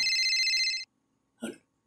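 A cellphone rings with a bright warbling electronic tone for under a second, then after a short silence a single faint sound follows.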